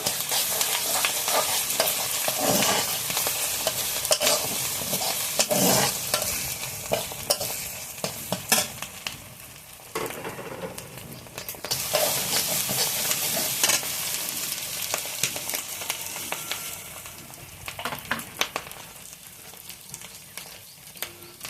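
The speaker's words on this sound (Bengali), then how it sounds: "এখন রসুন বাটা দিয়ে দেব, আদা বাটা দিয়ে দেব। এখন এগুলো ভালোভাবে ভেজে নেব" Garlic and ginger paste sizzles and fries steadily in a pan, with continuous close stirring and scraping that comes and goes in waves throughout.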